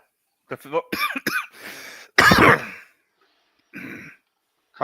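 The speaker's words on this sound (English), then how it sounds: "Cough" A speaker talks, then one loud, harsh burst of coughing breaks in, followed by a short pause and more speech.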